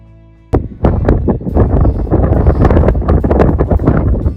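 Blustery, bitterly cold wind rumbles and crackles against the microphone after a sudden onset, steady and loud throughout the short stretch, on a hiking trail near Mont Ventoux.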